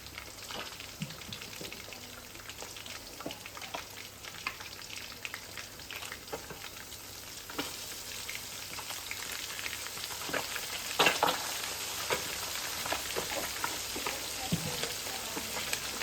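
Fish frying in a pan over a medium flame, a soft steady sizzle with occasional stirring scrapes and brief louder pops, close by and with no talking.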